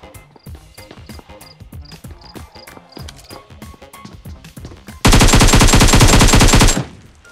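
Gunfire in the BGMI mobile battle royale game: a long run of rapid, sharp single shots at a steady beat, then a loud, dense, continuous burst of automatic fire lasting nearly two seconds before it cuts off.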